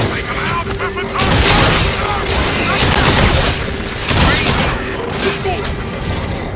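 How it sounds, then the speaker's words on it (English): Dense automatic gunfire from guard bots in Call of Duty: Infinite Warfare comes as loud, near bursts that swell and ease over a steady battle rumble. "Why is our own tech shooting at us?"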